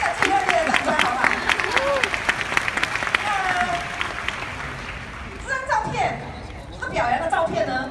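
A Nu Skin convention crowd claps warmly for an honoree. Steady applause fills the hall, with voices calling out and talking over it throughout.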